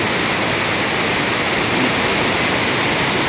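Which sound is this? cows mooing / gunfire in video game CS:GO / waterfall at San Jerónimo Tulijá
waterfall at San Jerónimo Tulijá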